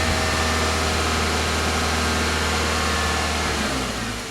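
A Toyota Corolla engine held at about 2,000 RPM after an oil change, heard up close as a steady, loud mechanical drone that eases slightly toward the end.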